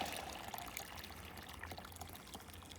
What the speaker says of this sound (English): if you get some boiling water, pour it on this